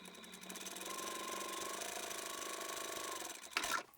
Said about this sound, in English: we'll just run a row of top stitching along the top edge of the pocket